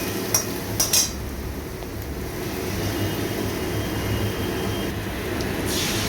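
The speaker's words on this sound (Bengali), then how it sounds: "ভালো করে আমরা আস্তে আস্তে নাড়িয়ে চাড়িয়ে নেব" Metal utensil clinks against a pan at the start while onions and spices are stirred slowly, followed by a steady low cooking rumble and soft scraping, close and moderately quiet.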